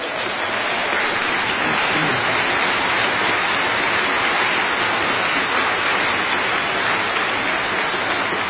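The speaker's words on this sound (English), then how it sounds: "Give him an enormous applause" A concert audience gives a performer on stage an enormous welcoming ovation: loud, dense, continuous applause fills the whole stretch without letting up, with no voices over it.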